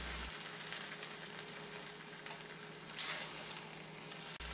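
Mushrooms stir-fried in a wok for a hash give a steady, loud sizzle and crackle that runs throughout, with faint stirring scrapes and no voices.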